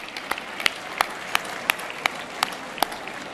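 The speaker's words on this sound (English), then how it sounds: "Let's give a round of applause for these people who dedicate so much time to this city." An audience at the 30th annual building industry achievement awards ceremony claps in a thin, scattered round, individual sharp claps landing roughly every third of a second without any cheering.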